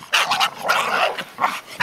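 A chained pit bull barking in quick, close, excited bursts, several sharp yips and barks in a row.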